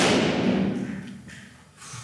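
A balloon bursts during a pop-the-balloon dating game, a single sharp thud at the start that fades into a decaying room tail, fairly close and loud.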